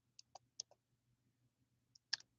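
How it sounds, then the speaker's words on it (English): A handful of soft, sparse keystroke clicks, close and quiet, tapping a search term into a computer search bar, with short pauses between strokes and no talking. "Come over here and you type in"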